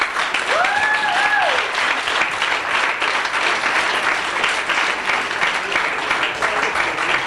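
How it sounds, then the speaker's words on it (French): An audience claps loudly and steadily at an end-of-year graduation evening, a dense, sustained wash of applause from a large indoor crowd, with a few brief voices rising over it near the start. "j'aimerais avoir de votre part une bonne main d'applaudissement pour eux"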